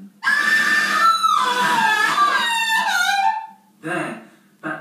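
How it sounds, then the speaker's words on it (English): In a ghost story, a shrill, wavering, disembodied shriek rises and falls for about three seconds, followed by a shorter cry. The sound has a voice-like tone. "that terrifying disembodied shriek we had long become accustomed to"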